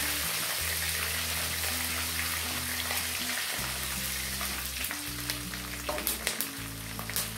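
Curry leaves and black pepper fry in hot oil, giving a steady, close sizzle with crackling pops that grow sharper toward the end, all over a constant low background hum.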